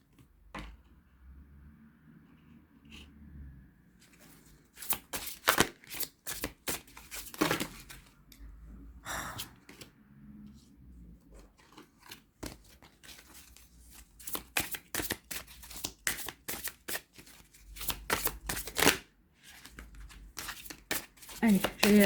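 Tarot cards being shuffled and handled, a series of sharp papery flicks and riffles in bursts, close and fairly loud, interspersed with speech.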